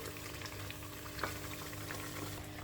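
Yogurt-marinated chicken frying in a pan, a dense, even bubbling sizzle with a low steady hum beneath and a faint stir tap or two, close and continuous.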